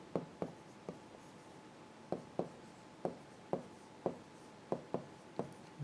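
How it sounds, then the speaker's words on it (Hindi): Someone writes a word on a board, making crisp tapping and scratching strokes in short bursts with brief pauses between them, close and otherwise quiet. "यहाँ मैं लिखता हूँ स्ट्रिंग"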